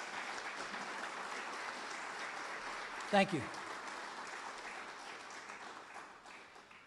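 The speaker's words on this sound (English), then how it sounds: "A round of applause, please." Steady applause from a seated audience fills the room at an award dinner at Camp Lejeune, a continuous clapping wash that fades slightly toward the end, with a brief spoken thanks in the middle.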